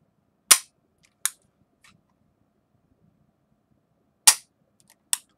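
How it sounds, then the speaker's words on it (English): Dry-fire trigger pulls on a Bersa TPR9 pistol give sharp, isolated metallic clicks in two pairs separated by a quiet gap, close and crisp with nothing else in between. "let me show you the pull of this trigger"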